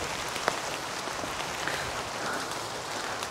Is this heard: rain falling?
yes